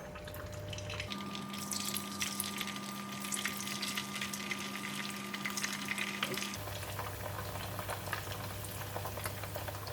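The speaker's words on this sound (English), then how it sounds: "In the pan, I have the hot oil, so we're just going to put in the tofu." Tofu pieces drop into hot oil in a pan for a crispy stir fry with bean sprouts, giving a steady, close, dense sizzle and crackle with a constant hum in the background and no talking.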